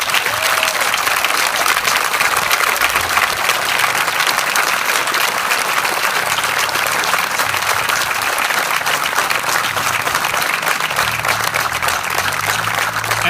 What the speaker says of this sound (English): And they deserve a round of applause too.